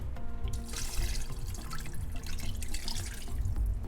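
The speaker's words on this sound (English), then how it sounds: "I'll be adding 4 more cups of water." Water pours into a cooking pot of Liberian GB soup, a steady splashing trickle with drips that runs unbroken and fairly close, with no one talking.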